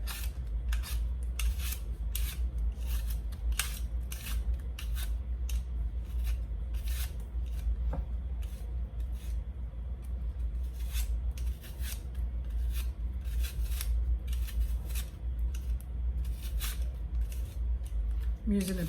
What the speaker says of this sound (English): I'm using a peeler, you can use a knife.